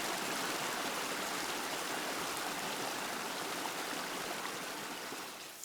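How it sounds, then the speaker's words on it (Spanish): River water flows steadily while wool is washed and rinsed in the river, a loud, continuous rushing close by with no voices. "Y vamos lavando la lana"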